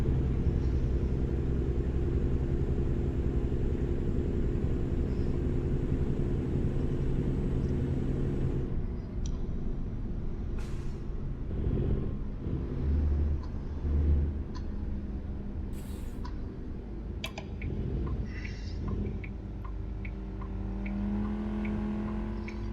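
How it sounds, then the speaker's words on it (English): Steady AI road traffic in the video game American Truck Simulator drones on in New Mexico, a continuous rumble of engines with vehicles swishing past, and no one speaking. "Some of this AI traffic just sounds weird as well."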